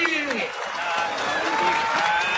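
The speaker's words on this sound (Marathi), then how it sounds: "टाळ्या वाजवा जरा पंचांसाठी" Crowd applause for the referees at an outdoor kushti wrestling bout in a Maharashtra akhada, steady clapping from a large crowd with an announcer's voice and other voices over it.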